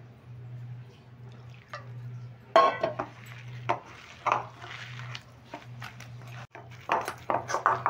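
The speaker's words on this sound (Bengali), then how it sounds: "এবার হাতে করে খুব ভালোভাবে ফেটিয়ে নেব।" Batter for bok flower fritters being beaten by hand in a bowl, with irregular wet squishing slaps and light clinks against the bowl over a steady low hum, the strokes coming in quick uneven bursts close by.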